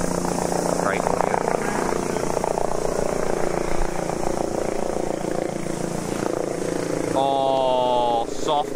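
A helicopter passes over a golf course during a practice round, its steady thumping rotor drone loud and continuous throughout, with people talking beneath it.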